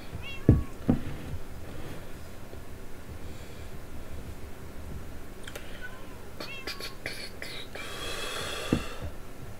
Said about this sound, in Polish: koty w grze.